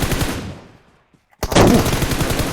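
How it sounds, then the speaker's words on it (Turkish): Automatic gunfire from PUBG Mobile gameplay, a long dense burst that fades into a moment of silence before a second loud, rapid volley of shots erupts up close. "adama iki şarjör mermi sıktım"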